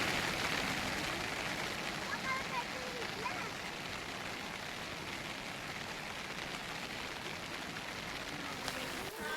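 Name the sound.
rain on the mountain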